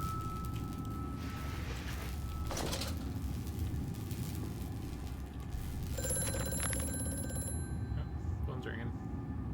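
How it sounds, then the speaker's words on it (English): Telephone ringing in the horror game Amnesia: A Machine for Pigs, a sustained electronic ring that starts partway through over a low ambient rumble and fades near the end. "Phone's ringing."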